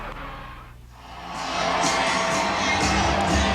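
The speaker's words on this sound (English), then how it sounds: "Great crowd on hand here tonight at Wells Fargo Arena" A large arena crowd at an Iowa state boys' basketball championship at Wells Fargo Arena swells into sustained cheering and shouting after a brief lull, with occasional whoops standing out.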